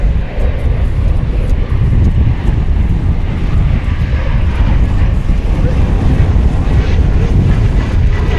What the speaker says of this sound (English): Okay, Fiji Airways Flight 890 from Nadi, another A350